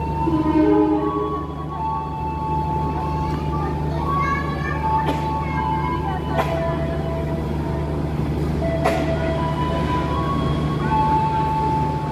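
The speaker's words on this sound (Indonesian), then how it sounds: "Nih kereta yang akan aku naiki datang" A train pulls into a station platform in Indonesia, a steady low rumble of the arriving train with squealing brake tones and occasional clanks, busy station ambience and voices around it.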